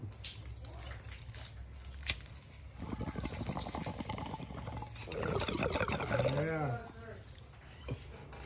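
Water bubbles and gurgles through an ice-filled glass bong as it is smoked, with a steady rising bubbling run of a few seconds that ends in a short burst. Quiet voices and rustling come before it.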